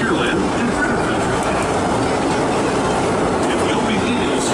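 Disneyland Railroad train running steadily on its rails, a loud continuous rumble and rattle of wheels and cars throughout with no break.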